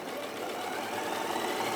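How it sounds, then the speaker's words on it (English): A sewing machine stitches through several layers of fabric, lining and fleece, a steady fast mechanical whirring with a dense rhythmic chatter that runs without pause and with no speech. "look how well that sewing machine is going through all of those"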